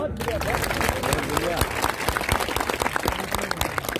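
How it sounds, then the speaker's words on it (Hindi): A crowd at a public gathering in Jaipur claps loudly and steadily, thick overlapping applause that continues throughout, with voices mixed in beneath it. "यदि मेरी बात आपको अच्छी लगी तो ताली बजाना।"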